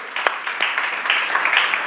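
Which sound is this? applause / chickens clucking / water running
applause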